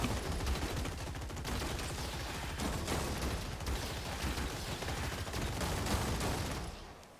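Continuous rapid machine gun fire from robots battling in the strategy game Gladiabots, dense crackling bursts layered over one another without pause, loud and sustained for several seconds before cutting off abruptly.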